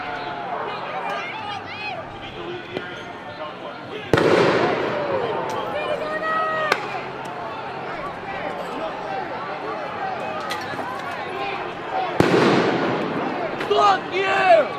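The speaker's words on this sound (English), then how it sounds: "Those are flashbangs" Flashbang grenades go off at a police protest as sharp, loud blasts echoing over a noisy crowd, with people shouting and talking throughout under the chaotic din.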